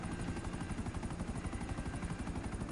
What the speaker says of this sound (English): it's a helicopter going down to splash landing